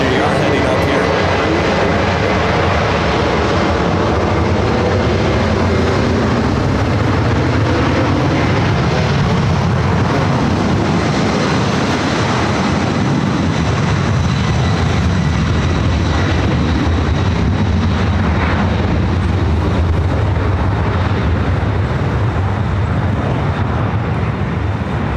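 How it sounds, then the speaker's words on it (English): A Delta Air Lines Boeing 767-300ER taking off from Los Angeles airport, a loud, sustained engine roar with shifting whine that fills the whole stretch, while a voice talks over it. "939 taking off to JFK on the 767-300ER"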